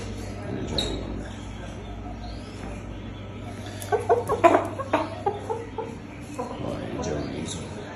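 Shamo fighting roosters cluck in a short burst of calls midway through, near and moderately loud over a steady low hum, with a few scattered clucks after.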